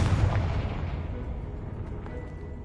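A Confringo spell in Hogwarts Legacy detonates in a loud, deep blast that rolls into a long, fading rumble, with no voices.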